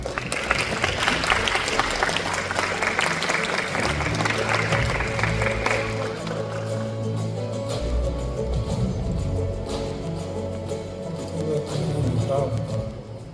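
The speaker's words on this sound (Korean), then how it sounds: "큰 박수 부탁드리겠습니다." A hall audience gives sustained applause welcoming an official onto a stage at a diaspora community event, dense clapping with music playing underneath, fading slightly midway before swelling again toward the end.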